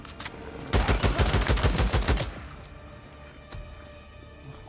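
Rapid gunfire in the PS5 video game Days Gone, a burst of about a dozen quick shots lasting over a second, fairly loud, then fading into a quieter background with no talk.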